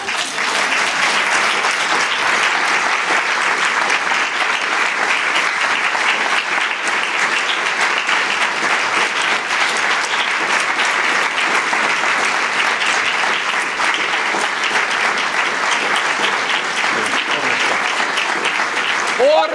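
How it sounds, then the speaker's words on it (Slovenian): Audience applause at a central local holiday celebration in Miklavž pri Ormožu, a thick, continuous roar of many hands clapping at an even level for the whole stretch. "Aplavz."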